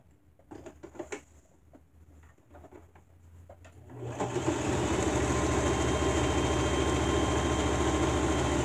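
A sewing machine quilting a pot holder towel, first a few faint clicks and handling taps, then the motor starts and runs as a loud, steady, close whir to the end.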